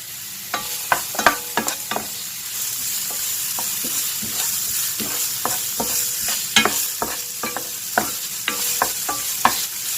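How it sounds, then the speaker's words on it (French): Chopped onion and chives sautéing in a little oil, a steady close sizzle broken by repeated sharp scrapes and clacks of stirring, no voices. "là j'ai un oignon et une ciboulette que je vais faire revenir"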